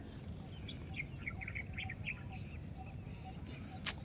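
Small birds call and chirp near a rice paddy beside a school ground in the morning, in quiet, scattered short squawks and tweets at moderate distance over a soft outdoor hum.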